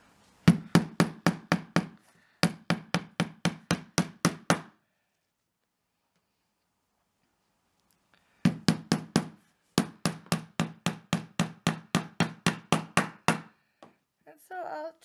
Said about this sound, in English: hammer them in